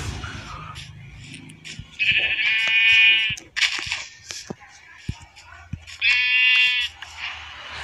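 Sheep bleating in a Minecraft survival world, two wavering, buzzy bleats a few seconds apart over faint game ambience and scattered clicks.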